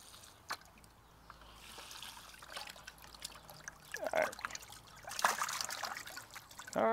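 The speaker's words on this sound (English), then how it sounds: "I'm gonna pour some water out so it's easier for me to get them." Water is poured out of a backyard pond during spring algae maintenance. A faint trickle runs quietly, then louder splashy pouring bursts arrive toward the end.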